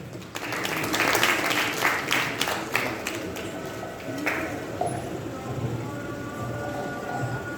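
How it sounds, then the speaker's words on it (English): An audience applauds as Nurse Goodness Perfume steps forward at a book review event; dense clapping builds over the first few seconds, then fades into a softer murmur of room noise. "A round of applause as she steps forward,"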